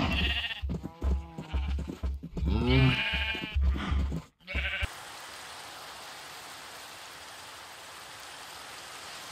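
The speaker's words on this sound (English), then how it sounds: "Cows and sheep, I brought you a treat." Sheep bleat in a farming video game, several wavering calls close by in the first half, then steady rain hiss takes over.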